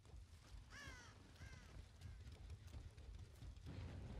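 Crows caw in the game Dead by Daylight, a few harsh calls bunched near the start and fading over a dense, steady ambient bed.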